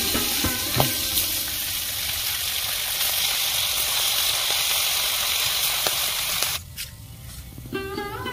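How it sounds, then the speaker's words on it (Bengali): Amudi fish frying in hot oil in a pan, a loud continuous sizzle with a few crackles, easing off and turning sparser near the end. "মাছগুলো ভেজে নেব"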